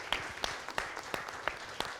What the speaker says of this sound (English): And you can clap again for that as well